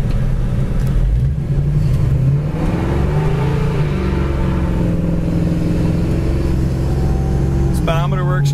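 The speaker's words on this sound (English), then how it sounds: "The exhaust sounds fantastic." A 1969 Chevelle SS cruising along, its exhaust a loud, steady low rumble that rises as the car pulls, with someone talking over it from inside the cabin.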